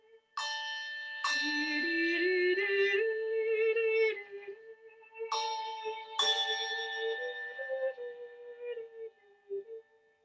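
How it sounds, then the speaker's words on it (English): A cymbal and bell tree ring out with bright shimmering strikes, long sustained metallic tones overlapping in slow, open harmony, with a low hum underneath and two clusters of attacks several seconds apart. "So cymbal and bell tree, it favors open fifth harmony and slow moving melodies because you don't get to damp all these bells."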